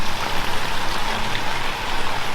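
Heavy rain pours off a roof and rushes down a chute in a steady, dense, continuous roar, loud and close with no pauses and no talking.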